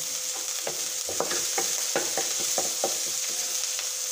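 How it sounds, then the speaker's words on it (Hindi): Shami kebab mixture fries lightly in a pan with a constant hiss. Repeated spatula strokes scrape and tap against the metal in an uneven rhythm throughout. "हल्का सा इसको फ्राई करना है।"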